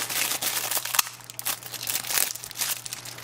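Plastic packaging crinkles and crackles steadily as it is pulled off a beard scissors and grooming kit, close and fairly loud with no talk.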